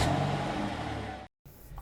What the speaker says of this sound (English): We are currently driving the gasoline-powered vehicle.